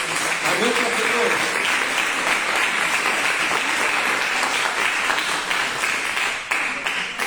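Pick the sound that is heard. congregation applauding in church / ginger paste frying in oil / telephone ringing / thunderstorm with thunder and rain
congregation applauding in church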